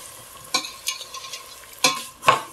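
Vermicelli (sevaiyan) roasts in a pan over slow heat, with a few soft, close scrapes and stirs over a faint sizzle and no speech.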